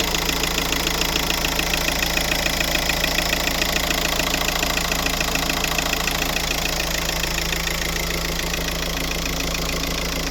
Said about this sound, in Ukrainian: Ось і робота двигуна